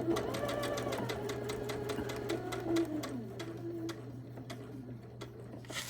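A sewing machine stitches a quilt block with a fast, even needle clatter that runs throughout at close range and slows slightly toward the end.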